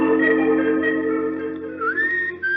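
A person whistles a sustained, wavering tune, fairly close and clear, with a rising slide near the end and a steady background hum.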